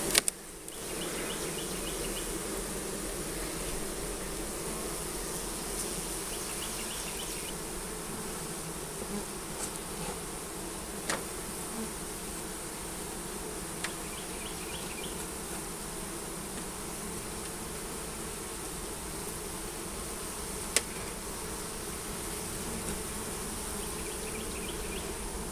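A steady, dense hum of many honey bees buzzing close by at an open hive, continuous and even throughout, with a few faint clicks and no voices.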